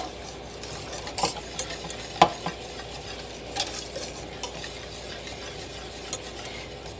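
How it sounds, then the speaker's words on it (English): A whisk stirring melted cheese into a creamy Alfredo sauce in a pan, soft scraping and sloshing under a low bubbling background, with sharper metallic taps and clinks scattered throughout. "I take a whisk and just kind of whisk everything together to make sure that it's nice and smooth"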